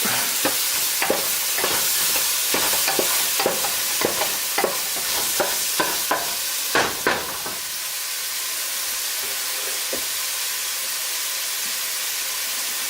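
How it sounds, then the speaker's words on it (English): Spicy mushroom and tomato ragu bubbles and sizzles in a pan while a spoon stirs in regular scraping strokes, then the stirring stops and a soft steady sizzle carries on alone. "Stir this about."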